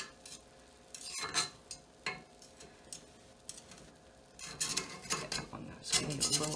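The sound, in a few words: knife run around edge of cast iron cornbread pan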